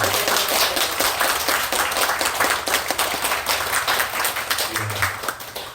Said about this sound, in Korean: 감사의 큰 박수 한번 보내주시면 좋겠습니다